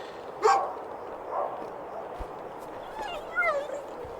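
Game dog barking as Old Yeller, with a few short yips and whimpering barks near and far apart, over a steady background, with a voice talking nearby.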